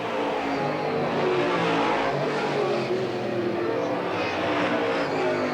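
Race cars roar around Eugene Speedway in a 1991 race, a dense, steady engine din with no breaks, heard under an excited race announcer calling the action.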